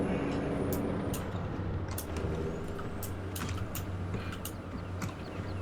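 A truck engine idles in Farming Simulator 2017, a steady low rumbling drone with a few sharp hissing bursts on top, continuous and moderately loud, no talk over it.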